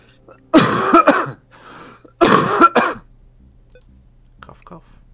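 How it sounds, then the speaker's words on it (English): Cartoonish coughs from a character in the Worms artillery video game, two short bursts of voiced hacking about a second apart with a softer breathy sound between, alone and close. "Cough, cough."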